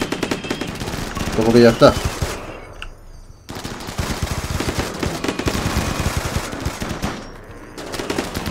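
A turret in RimWorld rattles off sustained rapid bursts of gunfire at close range, with a brief lull before the shooting resumes, while someone talks over it.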